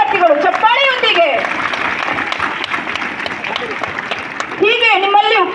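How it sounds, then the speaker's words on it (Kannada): Students clap together at a school sports meet as the sports torch is lit, a steady wash of applause running throughout, with a voice speaking over it at the start and again near the end. "ಎಲ್ಲ ವಿದ್ಯಾರ್ಥಿಗಳು ಚಪ್ಪಾಳೆಯೊಂದಿಗೆ"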